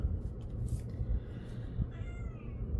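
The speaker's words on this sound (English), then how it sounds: "you're gonna hear our cat caterwauling" A cat lets out a drawn-out, wavering yowl, faint and somewhat distant over a low background rumble.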